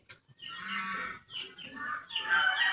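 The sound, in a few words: chicken clucking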